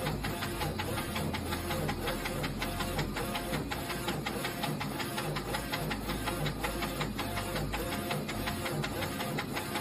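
A direct-to-film (DTF) printer runs continuously, printing two wide at once, with a steady rapid mechanical ticking and whirring of the print head carriage that stays close and even throughout.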